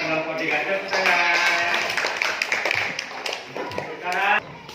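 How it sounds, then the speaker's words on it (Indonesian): A class of students claps their hands in a burst of rapid, overlapping applause, mixed with lively children's voices talking and calling out throughout. "Tepuk tangan."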